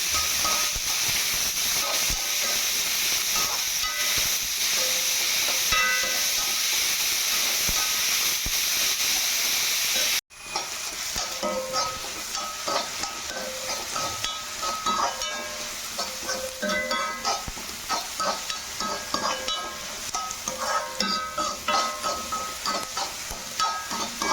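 Prawns stir-frying with chilli and onion in a pan make a steady, loud sizzle and hiss, with scraping stirring strokes that grow busier after a brief break partway through.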